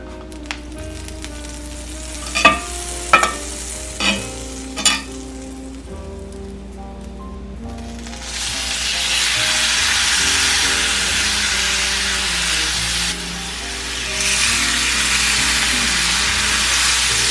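Filet mignon searing in a pan of avocado oil and butter: a few clinks and knocks, then a broad loud sizzle rises and holds, briefly dipping before surging again.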